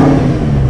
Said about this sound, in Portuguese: Obviamente o V10 vem à vida, esse carro especificamente está com escape feito